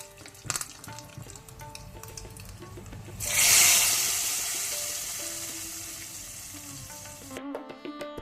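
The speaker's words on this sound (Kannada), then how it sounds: "ಸಾಸಿವೆ ಚಟಪಟ ಆಗುವಾಗ ಅದಕ್ಕೆ 2 ಮೆಣಸನ್ನು ಹಾಕ್ತೇನೆ" Mustard seeds and two chillies hit hot oil in a pan while tempering a traditional Mangalorean ripe mango curry, setting off a loud, close, crackling sizzle that begins suddenly after some kitchen clatter and slowly fades.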